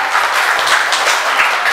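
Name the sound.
audience applause for Kader Umar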